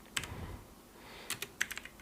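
Fingers typing on a computer keyboard, a few soft close key clicks in two small clusters, quiet and without any talking.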